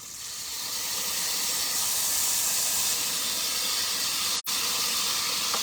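Garlic tossed into a skillet of lightly browned smoked sausage gives a loud, continuous sizzle and hiss that holds steady for several seconds, close and alone.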